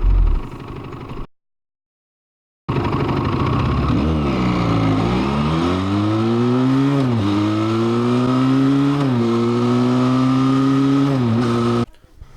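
Benelli Leoncino motorcycle engine roaring close by after a brief silence, revving up and down in several rising and falling sweeps over a rumbling idle.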